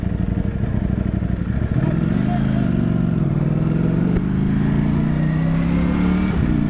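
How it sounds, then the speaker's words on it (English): A Ducati Streetfighter V4S motorcycle accelerates hard around the Brands Hatch race track, its loud engine rising in pitch through the gears with brief shifts, close and continuous over wind rush. "We snuck out for a few low-key laps amongst a field full of race bikes to see how the Street Fighter V4S stands up against proper race machinery."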